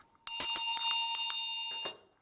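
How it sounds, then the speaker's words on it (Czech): Small bell rings at the end of a Czech fairy tale reading, a bright rapid jingle of several quick strikes lasting about a second and a half, close and clear, then fading to silence. "Zazvonil zvonec."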